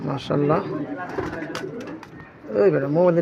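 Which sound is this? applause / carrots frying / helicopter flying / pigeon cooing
pigeon cooing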